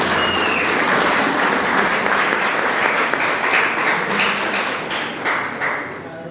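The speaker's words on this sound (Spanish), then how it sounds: "Un aplauso para el hermano." Dense, loud applause from a church congregation for a brother, steady broadband clapping filling the room without speech, tapering slightly at the end.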